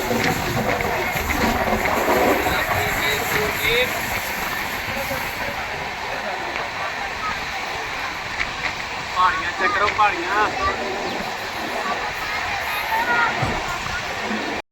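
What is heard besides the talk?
train running, rail carriage noise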